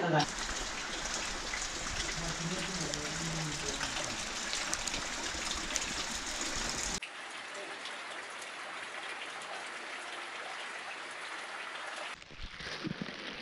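Rain falls steadily during a mountain trek near Khumai above Pokhara, a dense continuous hiss that drops to a softer level partway through, with no clear voices over it.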